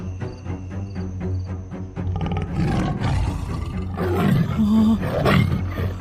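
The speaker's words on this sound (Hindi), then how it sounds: "यहाँ से कोई जंगली जानवर लग रहा है।" A wild animal roars from behind bushes in a cartoon forest, a loud, deep, sustained growling roar that swells and continues in several rising bursts.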